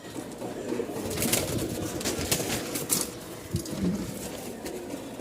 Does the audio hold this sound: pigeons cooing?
yes